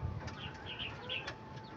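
Racing pigeons in a loft during a derby, soft close cooing and faint wing movement over a low background hum, brief and quiet.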